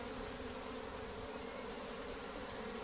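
Honeybees buzz in a dense, steady drone around an opened beehive box, a continuous soft hum with no voices.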